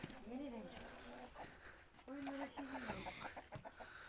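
Chickens cluck and a rooster-like call rises in short bursts, with soft voices talking underneath.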